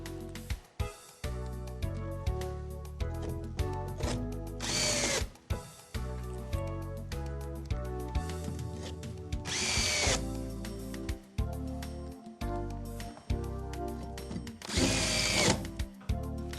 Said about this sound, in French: c'est le moment de fixer le tout et de visser solidement chaque NovaBrick